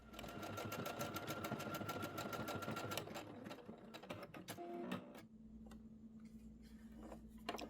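A Singer SE9185 sewing machine stitching embroidered lettering, a fast, faint mechanical whirring that runs for about five seconds and then gives way to a few scattered clicks and ticks.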